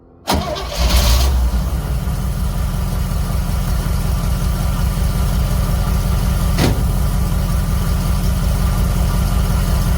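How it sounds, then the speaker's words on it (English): Two small-block Chevy engines with Edelbrock carburetors crank and fire up after a brief start, then settle into a loud, steady, lopey idle close by for the rest of the clip, one short click partway through. "that's two small block Chevys with that Edelbrock carburetor on them"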